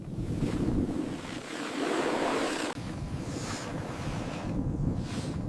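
Strong wind blows steadily across open ice on a frozen lake at -30°C, a loud continuous roar with rising and falling gusts and no voices.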